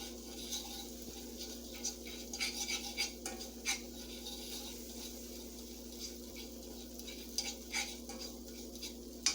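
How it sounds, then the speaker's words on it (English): Flour and butter being stirred in a pan, with faint, intermittent scraping and clinking strokes over a low, soft sizzle, unaccompanied by talk. "cook or stir it until it thickens up and becomes like a golden brown"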